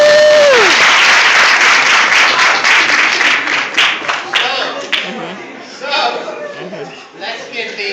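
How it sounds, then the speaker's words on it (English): Audience at a corporate rebranding event applauds, a loud dense burst of many hands clapping that starts strong, then thins and swells again with scattered claps and a few chuckles. "Let's give these 6 people another round of applause."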